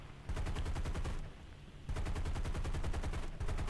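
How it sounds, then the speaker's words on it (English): A P-51D Mustang fires its aircraft machine guns in War Thunder over Midway, two rapid, evenly pulsed bursts of gunfire separated by a short pause, loud and close, with no voices. "I'm shooting all my ammo"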